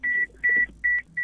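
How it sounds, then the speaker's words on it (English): Steady electronic beeps repeat four times in an even rhythm, each a clear sustained tone with short gaps between, moderately loud over faint background noise, no voices. "What's making that beeping sound?"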